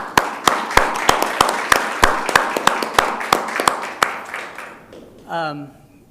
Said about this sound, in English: Another round of applause for Linda.